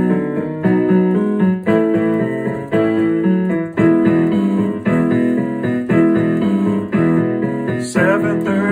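Piano plays a song intro with both hands, a driving rhythmic pattern of repeated chords and bass notes, loud and close with no talking.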